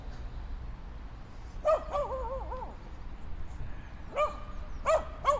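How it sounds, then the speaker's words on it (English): A dog barks and yips at a park, a few sharp, close, tonal barks in two short bursts over steady outdoor background noise. "Dogs like to play with cars."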